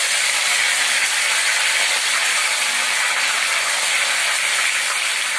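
Curry leaves hit hot oil in a pan and set off a loud, steady, close sizzling hiss that continues without a break, with no voices.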